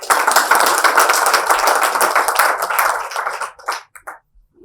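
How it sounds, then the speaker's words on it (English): An audience claps at a special programme for the International Day for People of African Descent, with a dense burst of clapping that holds for about three seconds, then breaks into a few scattered claps before fading to silence. "We can have a clapping."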